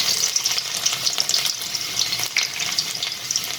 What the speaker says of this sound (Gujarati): તેલ ગરમ થાય એટલે આપણે પહેલાં લીલું સમારેલું લસણ નાખીશું